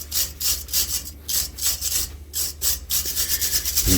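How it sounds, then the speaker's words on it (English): Repeated rasping strokes of a brush scrubbing caked dirt off the threaded U-bolts on an Ifor Williams trailer's spring mount, close and steady with a brisk back-and-forth rhythm and no talk. "I'm just going to clean off some of the dirt around these U-bolts on the threads"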